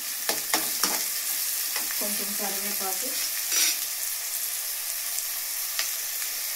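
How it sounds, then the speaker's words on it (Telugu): Onions fry in a pan for chicken curry with a steady, moderate sizzle and a few scraping stirs, a faint voice briefly under the crackle. "మామూలు అరస్పూన్ ఆనియన్స్ వేసుకున్న తర్వాత ఒకసారి కలుపుకొని"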